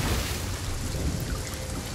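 A thunderstorm at sea in the pirate game Sea of Thieves makes a steady, dense roar of rain and low rumbling that holds constant throughout, with no talking.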